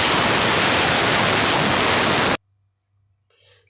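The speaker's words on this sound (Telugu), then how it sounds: "మూడు విజిల్లు అయితే రానిచ్చాను" A pressure cooker with moong dal khichdi gives a loud, steady blast of steam for about two seconds, then cuts off sharply, leaving only faint, scattered sounds.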